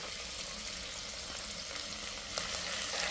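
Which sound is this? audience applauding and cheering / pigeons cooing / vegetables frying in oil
vegetables frying in oil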